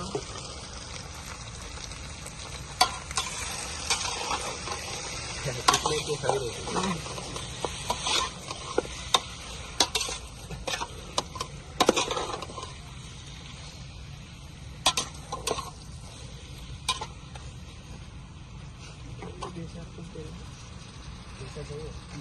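Five kilograms of chicken frying in a karahi, with an irregular run of scrapes and clatters as it is stirred, a soft sizzle underneath and someone talking over it close by.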